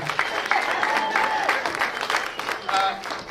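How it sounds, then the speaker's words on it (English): Crowd applause and cheering at a political campaign event, a dense steady wash of clapping with a few whoops and voices mixed in, lasting throughout. "Give him a round of applause."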